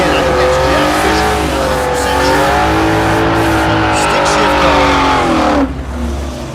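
Drag racing launch at Thunder Valley in Noble, Oklahoma: a 1970 stick-shift Chevelle against a GTO, loud engines roaring and revving hard for about five seconds before cutting off, with crowd and announcer talk underneath.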